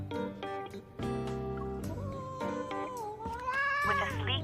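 A cat meows repeatedly in the game Love and Deepspace, several drawn-out, pitch-bending cries ending in a rising, strained caterwaul, close and clear with no talking.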